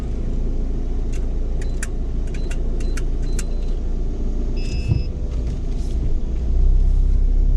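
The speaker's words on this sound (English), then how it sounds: "We'll just take a quick drive through." A car rolling slowly through a lakeside RV campground gives a low steady engine rumble close by, with scattered faint clicks and rattles inside the cabin and a brief electronic chime partway through, with no talking.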